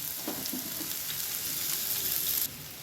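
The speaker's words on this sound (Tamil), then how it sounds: "இது 1 நிமிஷம் நல்லா வதக்கி விடலாம் ஹையில் வச்சு" Vegetables sauté on high heat in a pan, giving a loud, steady close sizzle with a few stirring knocks before the hiss drops suddenly.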